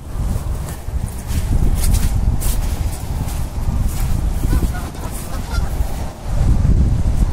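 Geese honk repeatedly in a noisy outdoor scene in extreme wind, the calls loud and overlapping, with some rustling and a voice now and then.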